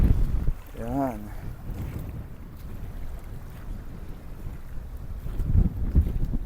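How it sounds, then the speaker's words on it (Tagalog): Strong wind gusts by the water at a small seaside park in Umluj, Saudi Arabia, roar steadily into the microphone. A voice is heard briefly early on, and the wind buffets the microphone more heavily near the end. "Malakas yung hangin."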